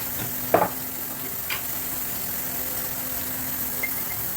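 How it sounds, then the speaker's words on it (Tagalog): Chicken stirred and sautéed in a hot pan with salt and black pepper, a soft steady sizzle with a couple of brief scraping stirs near the start. "halo-haloin hanggang sa maluto yung chicken guys"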